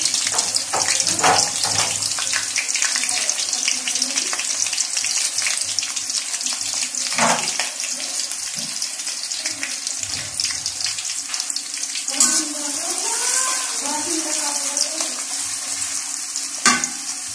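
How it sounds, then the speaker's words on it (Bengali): Chopped onion goes into hot oil with bay leaf nearby, a loud continuous close-up sizzle with hissing crackle throughout and occasional stirring scrapes. "দিয়ে দিচ্ছি পেঁয়াজ কুচি। আমার তেলটা গরম হয়ে গিয়েছে।"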